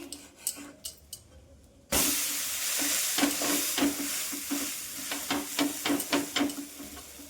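Uttapam sizzles and crackles steadily in a hot pan after a loud burst when it is flipped, with scraping spatula clicks and taps on top. No one speaks.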